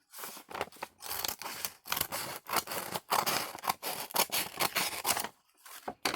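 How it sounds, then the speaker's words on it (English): Scissors cutting along the fold of a folded paper bag, a close, continuous series of crisp snipping and crunching strokes with brief pauses between cuts. "You're going to fold that in half, and you're going to cut along this folded line."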